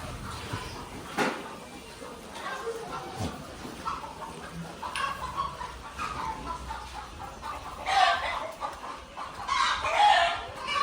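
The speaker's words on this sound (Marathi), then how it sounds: "इकडं आहेत कोंबड्या वगैरे" Chickens and a rooster at a goat farm give scattered clucks and calls, with a couple of louder squawks near the end against a busy farmyard background.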